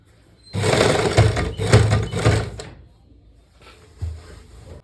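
A sewing machine slowly stitches elastic into palazzo pants: a loud close whirring run of about two seconds, a quiet pause, then a shorter burst.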